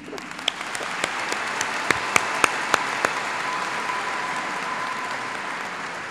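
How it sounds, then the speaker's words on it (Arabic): Applause from the congregation at a Chaldean church Mass for priests and nuns, a steady wash of clapping with a few sharp individual claps standing out, moderately loud and sustained throughout. "تصفيق لهم"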